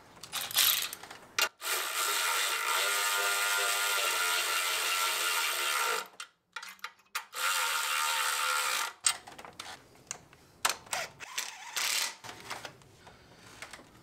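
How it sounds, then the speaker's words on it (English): A hand ratchet tightening 10 mm and 13 mm bolts on a PPE charge air cooler fitted to a 3.0 Duramax in a 2024 ZR2, heard as long buzzing runs of clicks, then shorter bursts and scattered tool knocks. "now we can tighten these 10s and that 13"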